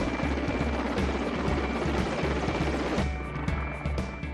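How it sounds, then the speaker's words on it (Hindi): A passenger helicopter on the new direct Jammu to Vaishno Devi service, its rotor thumping in a fast regular beat with a steady engine whine, fairly close and dominant, easing slightly toward the end. "मंगलवार को जम्मू से सीधा वैष्णो देवी के लिए यात्रियों के हेलीकॉप्टर ने अपनी पहली उड़ान भरी।"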